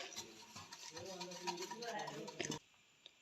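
Sugar, cocoa powder and cornflour being stirred together in a bowl, a steady scraping and clinking of a spoon against the dish that stops abruptly, with someone speaking over it.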